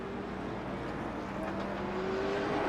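Stock cars circling USA International Speedway near the end of a race, heard as a steady, continuous engine drone with a faint whine rising late, distant and even in level.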